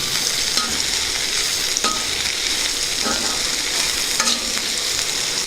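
Steady hiss of peppercorns frying in hot oil in a pan for a mint cabbage curry, continuous and close, with occasional faint clinks of a spoon stirring.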